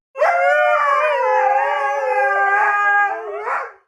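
Several dogs howl together in a sustained, loud chorus of wavering overlapping tones in a home kitchen at mealtime, rising and falling for a few seconds before breaking off abruptly.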